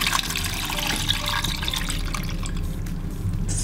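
Water pours steadily to fill a giant homemade emoji stress ball packed with Orbeez, a continuous trickling, splashing stream running loud and close for the whole stretch with no talk over it.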